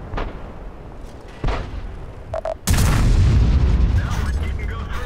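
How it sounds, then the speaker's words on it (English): A heavy artillery gun on a Rheinmetall-Borsig Waffenträger tank destroyer in World of Tanks fires a single loud, close shot that booms suddenly and rolls on into a sustained, rumbling roar. "That was such a risky shot I took right there"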